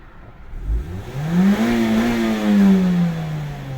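A 2009 Mazda 6 2.0 petrol engine with automatic transmission revs up hard, its pitch climbing and holding high near the limiter, then easing slightly; loud and close with no talking.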